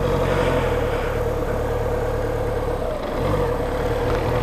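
A motorcycle engine hums steadily at low speed during slow U-turn practice on a training course, a continuous close mid-pitched drone that rises slightly as the clutch is released.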